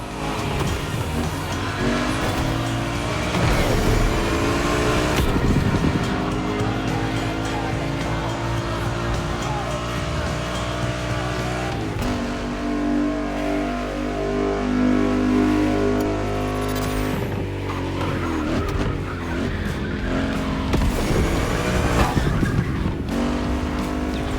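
Porsche 911 racing in The Crew Motorfest video game, a loud engine revving and shifting through gears with repeated tire squeals and skids, continuous and close.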